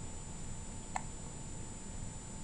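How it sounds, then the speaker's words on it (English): A newborn baby gives one small, sharp hiccup, brief and faint, against a quiet room with a steady electronic whine and no speech. "He has lots of hiccups."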